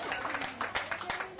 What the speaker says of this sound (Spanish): les vamos a dar un fuerte aplauso a los niños